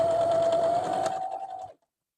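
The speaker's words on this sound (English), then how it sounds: "I'm going to sew the bodice together. So just sew down all of these" A sewing machine stitches the bodice seams of a dress, a close, steady whirring run of about a second and a half that winds down and stops.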